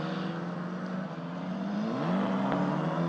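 Italian F4 race cars on a sighting lap at Monza make a continuous engine drone, with a rising whine as one car accelerates near the end, heard at a moderate distance.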